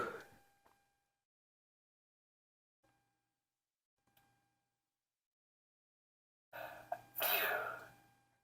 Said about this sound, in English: And this time around, I did get my sneeze.